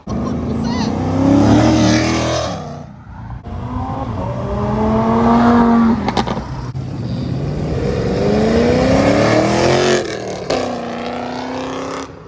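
A 1000+ hp Toyota Supra pulls away from a car meet, its engine screaming through repeated rising gear pulls with brief shift gaps, loud and close, while excited voices shout over it.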